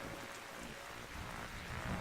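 Steady rain pours in the video game Darkside Detective, a continuous dense hiss of drops with a low rumble underneath, unbroken and moderately loud throughout.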